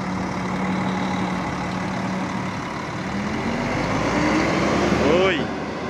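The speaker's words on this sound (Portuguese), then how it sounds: "Motor O500 RSD, galera. Tá com saudade de ouvir esse ronco aqui. Mercedes é Mercedes." A Mercedes-Benz O500 RSD bus engine rumbles at an interstate bus station in Brasília. The steady loud drone builds and ends in a rising whine as the bus pulls off, with talk heard around it.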